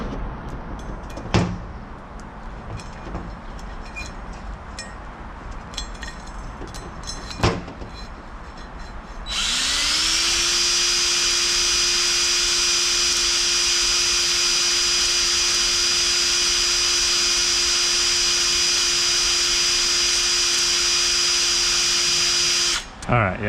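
Power drill spinning honing stones inside a brake caliper bore, starting partway in as a steady loud whine with a droning tone that holds for about fourteen seconds and then stops abruptly, after a few scattered knocks and faint workshop sounds.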